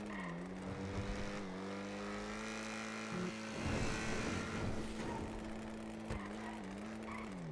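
A car in a video game drives with a steady droning engine hum that shifts pitch as it revs and changes gear, with a brief rougher burst of tire and road noise midway, moderately loud and without talk.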